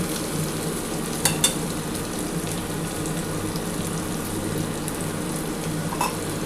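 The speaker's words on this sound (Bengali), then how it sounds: "পেঁয়াজ আর টমেটো আর আদার সাথে ভালো করে একটু নাড়াচাড়া করে নেব।" Onion, tomato and ginger are stir-fried in a pan with a steady sizzle, with occasional scrapes and clinks of a spoon as the mixture is stirred; no one speaks.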